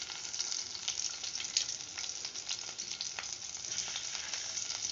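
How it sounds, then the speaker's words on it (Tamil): Mustard seeds frying in hot oil with green chilies and garlic in a pan: a dense, continuous crackling sizzle with sharp pops scattered throughout, close and steady, with no talk. "கடுகு போட்டுக்கலாம்."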